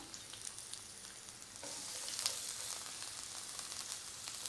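Steady sizzling and crackling of onions frying in a hot pan, growing slightly louder partway through, with no voices.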